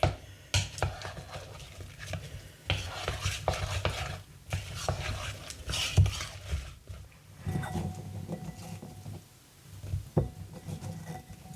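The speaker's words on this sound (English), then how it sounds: "Break my onions up, you know how they all stick together." Battered onion slices are broken apart in a bowl, with repeated wet clicks, scrapes and utensil knocks in an irregular rhythm, close and moderately loud with no talk.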